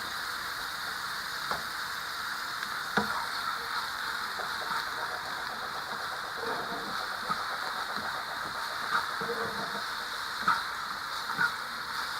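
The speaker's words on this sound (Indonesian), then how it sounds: "Kita tumis sampai harum." Chicken, mushrooms and spring onion stir-fried in a pan, giving a steady close sizzle with occasional light clinks from the utensil and no talking.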